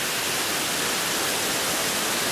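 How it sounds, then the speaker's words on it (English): Long Creek Falls on the Appalachian Trail, heard from the top of the waterfall, gives a steady, dense rush of falling water, loud and close with no other sounds. "There it is, Long Creek Falls."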